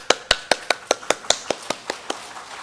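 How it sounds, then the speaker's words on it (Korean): One person claps alone during a church service, about a dozen crisp, evenly spaced claps in a steady rhythm, close and clear with nothing else around them. "저 혼자 박수 치겠습니다"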